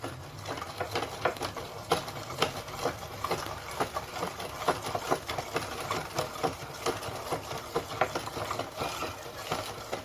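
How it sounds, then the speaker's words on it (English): Kente weft yarn wound onto a bobbin on a spinning device, giving a steady whirring, rattling mechanical drone with a quick regular pulse, heard alone at moderate level. "So the spinning process is ongoing, and it is the preparation or the spinning of the weft yarns."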